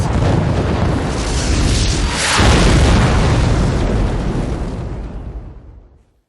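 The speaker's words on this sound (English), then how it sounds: "Watch out for explosions." Explosions in the shoot-'em-up Raiden V, a loud sustained roaring blast with a second boom surging midway, then a long rumbling decay fading out at the end.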